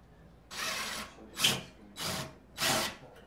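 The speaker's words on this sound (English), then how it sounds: "if you're going to use an impact wrench, you got to make certain and not just keep drilling" An impact wrench drives a screw into wood in four short bursts of buzzing power-tool noise, each lasting about half a second, with brief pauses between them, moderately close and without talk.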